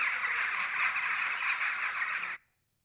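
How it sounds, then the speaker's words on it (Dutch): A big flock of jackdaws clamours together in a dense, continuous wash of overlapping calls, loud and close, before cutting off abruptly into silence. "En dat doen ze in grote groepen, zoals een groep met kauwen"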